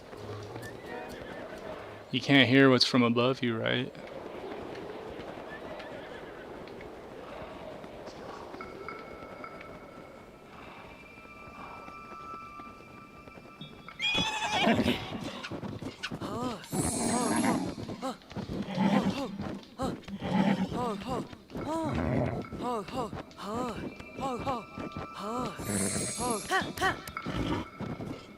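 Someone talks over sounds of a horse whinnying and hooves clopping at a steady gallop in The Legend of Zelda: Breath of the Wild, with a loud whoosh early on.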